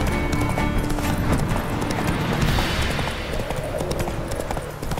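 Rapid, rhythmic clip-clop of horse hoofbeats from riding in the video game The Witcher 3: The Wild Hunt, loud and continuous, with game sounds mixed in.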